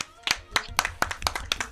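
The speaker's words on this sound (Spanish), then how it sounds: "¡Un fuerte aplauso!" Sparse, distinct handclaps from a small group closing an interview, sharp individual claps spaced irregularly rather than a dense roar, fairly close.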